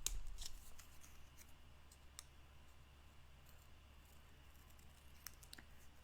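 Scissors snip through cardstock for a Z-fold card with a double opening. A few quiet, crisp cuts and small clicks sound close by against a soft room hush, with no talk.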